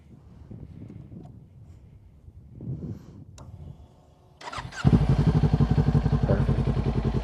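A 2023 Kawasaki Ninja 400 motorcycle starts after a few seconds of quiet handling noises, then idles loud and close with a steady, rapid rhythmic pulse.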